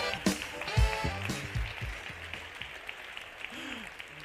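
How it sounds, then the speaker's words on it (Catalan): Audience applause at a magic show during a paper-costume gala in Mollerussa, with clapping that rises and thins out over a few seconds behind a voice speaking. "fort l'aplaudiment per ell."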